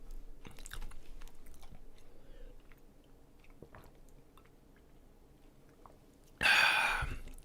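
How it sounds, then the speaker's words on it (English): Crunching bite of food close to the mic, a sudden loud crackly burst near the end after a stretch of quiet room noise with faint clicks. "I hope the crunching sound isn't bothering you so much."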